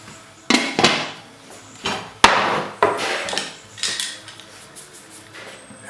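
Grainfather brewing system lid and recirculation arm being fitted, giving a series of sharp metallic clanks and knocks, about eight uneven hits close by, with no talk.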